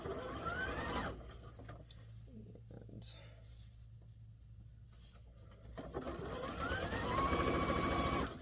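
A domestic sewing machine fitted with a regular presser foot stitches scrappy quilt string blocks, whirring in steady bursts at the start and end with a quieter pause between, while a person talks over it.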